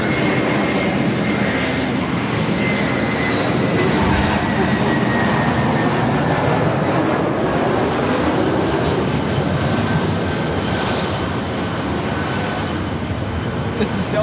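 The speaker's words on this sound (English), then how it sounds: "1161 coming in from Salt Lake City on the A321" A Delta Air Lines Airbus A321 arriving at Los Angeles International Airport, inbound from Salt Lake City, with a loud, steady broadband jet engine roar that fills the whole stretch, a voice briefly heard beneath it.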